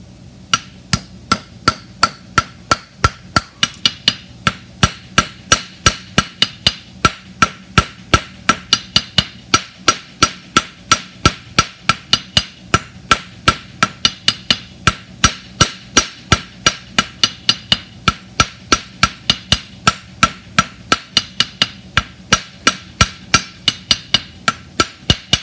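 Horseshoe being hammered on an anvil, a long run of sharp, evenly spaced metallic strikes roughly once per second, loud and close, with no talking.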